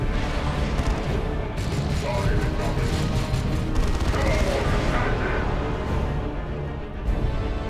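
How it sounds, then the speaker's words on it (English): Orbital Bombardment strike in the real-time strategy game Dawn of War II: Retribution, a dense continuous rumble of explosions and crashing impacts, loud and unbroken throughout, with battle noise layered over it. "it's all about this Orbital Bombardment at the moment"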